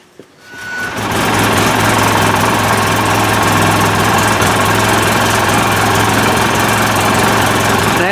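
A Polaris Ranger XP 6x6 military hauler's engine starts and then runs steadily while parked, a loud, close, continuous droning idle with a constant low hum and no voices.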